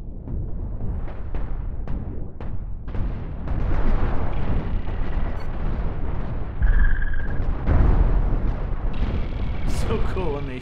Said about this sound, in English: There goes the flak cannons.